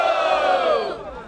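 A loud burst of crowd cheering and whooping at a rap battle vote in Barueri, São Paulo, a dense roar of many voices that swells and then fades over about a second.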